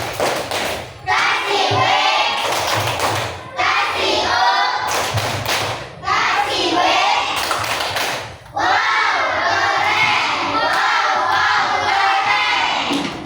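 Primary school children in a classroom clap together in rhythmic bursts, joined by loud group chanting voices, several close sections separated by brief pauses.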